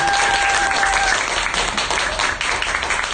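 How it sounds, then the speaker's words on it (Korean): Loud, dense applause fills a room as a book talk concert by an author opens, a full audience clapping continuously throughout. "여러분 큰 박수 부탁드립니다"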